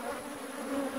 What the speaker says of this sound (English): There's several bees with lots of pollen.